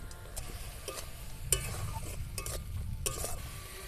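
Finely chopped carrot is stirred in a frying pan with spices and oil, giving a soft steady sizzle punctuated by light scraping and tapping of the utensil against the pan, close and fairly quiet.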